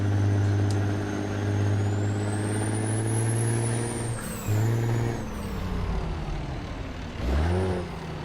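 A heavy truck in American Truck Simulator drops down to 8th gear: a deep, droning engine shifts pitch as revs fall and rise again, broken by a short hiss of air and a loud rumbling surge near the end.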